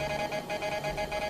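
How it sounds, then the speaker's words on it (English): Electronic equipment beeps in a quick, regular series of short, high-pitched tones, fairly loud and with no voices. "their equipment begins to beep"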